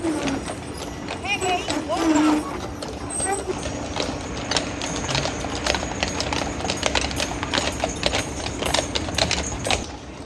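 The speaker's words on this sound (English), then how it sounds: "In the end, I met the horse carriages again. They are heading to the stadium for the show." Horse carriages clip-clopping along on the way to a stadium show at the Easter Show, steady hoofbeats continuing throughout at moderate distance amid crowd chatter and other ambient noise.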